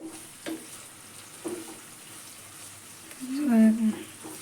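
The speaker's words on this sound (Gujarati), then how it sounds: "પહેલાં ઘી નાખી દઉં ગરમ થઈ ગયું છે અને આપણે નાખી દઈએ હળદર" Fresh turmeric fries in hot ghee in a pan, giving a soft, steady sizzle with a few faint clinks and stirring sounds, while a voice speaks quietly near the end.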